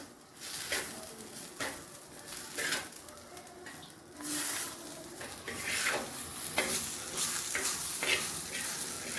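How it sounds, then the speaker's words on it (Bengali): Food fries in a clay pot, a soft sizzle under repeated scraping stirs of a utensil at an uneven rhythm, close but fairly quiet. "হালকা ভাজা ভাজা হয়ে গেছে, এবার নামিয়ে দেবো।"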